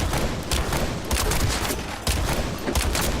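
Rapid bursts of rifle fire in the looter shooter The First Descendant, with dense crackling volleys broken by short pauses, loud and close, with no voices.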